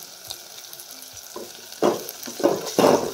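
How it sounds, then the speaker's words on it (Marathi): Rajma masala spices, onion and tomato sautéing in oil, a quiet sizzle broken by a few light clicks, then three loud bursts of scraping and sizzling as the mixture is stirred, no voices. "मस्त असं वास सुटेपर्यंत ही तेलात परतून घ्यायचंय"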